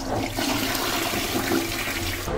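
A toilet flushes as a sound effect, one continuous rushing, gurgling surge of water that stays loud and steady throughout with no voices.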